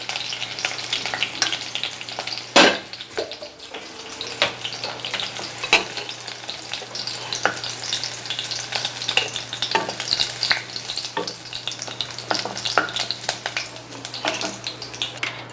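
Onions sauté lightly in a pan for a yogurt gravy, a continuous crackling sizzle punctuated by frequent sharp stirring scrapes and a couple of louder clanks, with a faint steady hum and no talk.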